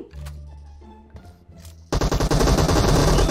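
Rapid bursts of automatic gunfire in the mobile battle royale game PUBG Mobile, loud and close, hammering in a dense continuous stream in the second half after quieter game sounds and brief talk.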